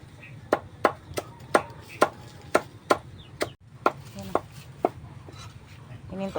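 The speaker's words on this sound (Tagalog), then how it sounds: "Bossing na nagtatadtad." Banana, papaya and taro are chopped to make feed for native pigs: about a dozen sharp, evenly spaced blade strikes land close by in a steady rhythm, with a short pause partway through.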